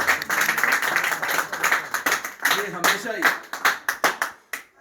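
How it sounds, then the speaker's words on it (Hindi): An audience at a speech bursts into claps that start dense and thin into distinct, separate hand claps as they die away, with a voice over the start. "तालियां।"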